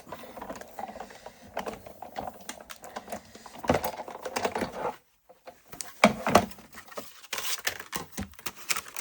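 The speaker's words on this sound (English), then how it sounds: "we'll now pop the die on, and we'll cut one more fully this time" A die-cutting machine presses paper through a shaped die to make a card, giving close, steady mechanical cranking with ratchet-like clicks and grinding, a brief quiet pause midway, then more cranking.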